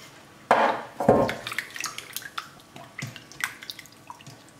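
Rounds of purple vitelotte potato are dropped into a bowl of very cold water, making close splashes and wet plops, two louder at the start, followed by lighter drips and clinks. No one speaks.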